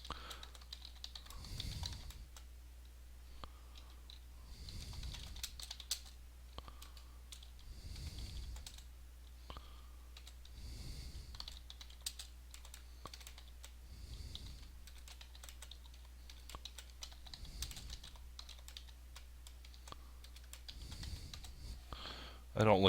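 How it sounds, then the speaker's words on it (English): Computer keyboard typing while writing a Visual Basic program, a steady stream of close, quiet key clicks in bursts, with no talking. "so bear with me with the typing"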